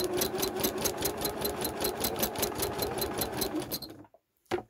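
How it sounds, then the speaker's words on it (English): A sewing machine runs steadily at close range, stitching free motion on dissolving film with a fast, even mechanical rattle, then stops just before the end with a brief clunk. "Pop your presser foot down and just do a few stitches just to start."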